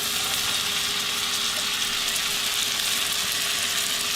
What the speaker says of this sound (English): We're going to put in our mushrooms and onion.